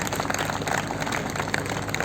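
Steady sustained applause from an audience at an award ceremony for railway week at the Banaras Locomotive Works in Varanasi, a dense continuous clatter of clapping hands filling the room.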